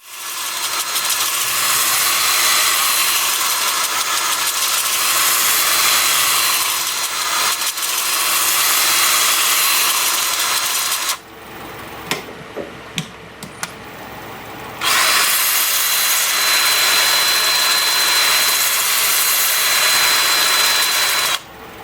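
A steady, loud sanding hiss against a wooden bowl spinning on a lathe at 370 RPM, stopping briefly for a few soft knocks, then resuming and running on.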